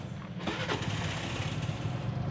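A used motorcycle engine is push-started, cranking and catching, then settles into a rough, close idle that rumbles steadily.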